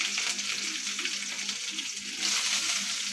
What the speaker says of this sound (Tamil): இப்போ வந்து பூண்டு போட்டுக்கலாம் ஃப்ரெண்ட்ஸ் கருவேப்பிலையும் பச்சை மிளகாயும் போட்டுக்கலாம்